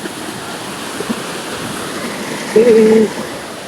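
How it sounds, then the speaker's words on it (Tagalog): Majay-jay waterfall rushing as a steady, broad wash of falling water, continuous and moderately loud throughout, with a brief louder swell of wind or voice near the end. "So, ito yung falls."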